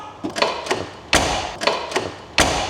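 A Skoda Superb car door closes with a solid thud, amid several lighter taps and clicks of the door and latch handling nearby.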